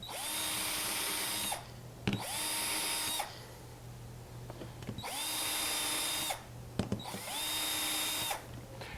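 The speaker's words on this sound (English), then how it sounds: "And then we'll use our Vicks bit to pre-drill our holes." A power drill with a Vix bit pre-drills hinge holes for a Blum Aventos HF bi-fold lift door, whining in four short bursts separated by quiet pauses, fairly faint and close.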